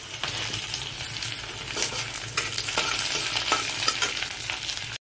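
Ginger-garlic paste sizzles and fries in hot oil in a pan, a continuous close crackle with occasional scraping stirs of a spoon, steady and loud until it cuts off abruptly.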